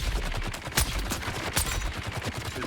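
Rapid game gunfire in a Dune-themed shooter crackles in dense, overlapping bursts with a couple of sharper, louder shots standing out, continuous and close throughout.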